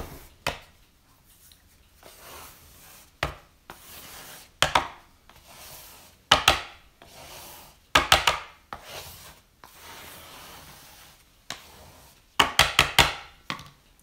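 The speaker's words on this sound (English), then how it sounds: "let me grab my bench scraper and get that flour out of the way" A bench scraper drags across a floury wooden work surface during pie making, giving a series of short, close scraping strokes in uneven bursts with quieter pauses between them.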